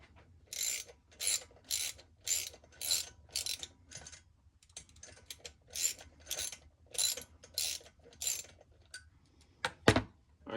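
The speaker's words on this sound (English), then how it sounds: "take 2 adjustable wrenches, aka crescent wrench, and then you're going to tighten these." Two adjustable crescent wrenches tighten nuts on a Predator 212 hemi engine, producing a run of rhythmic ratcheting metal clicks in short bursts, close up, with a sharper clank near the end and no talking.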